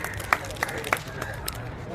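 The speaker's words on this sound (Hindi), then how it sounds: "ताली हो जाए।" Small group of students at a Hindi-language coaching class claps for a Bihar Police exam topper, a few sparse, scattered handclaps over a low murmur of room noise and voices.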